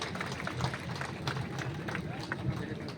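Dense, continuous clapping from a seated audience at an official welcoming ceremony, fairly quiet and steady, with crowd murmur and talk mixed in.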